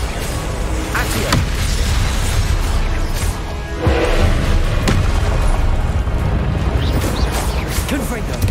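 Confringo fire-spell explosions in Hogwarts Legacy, several booming blasts and crashes over a dense, loud game soundscape while a player keeps talking throughout.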